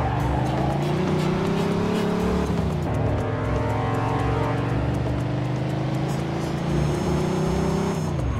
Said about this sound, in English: Pursuit of a speeding vehicle.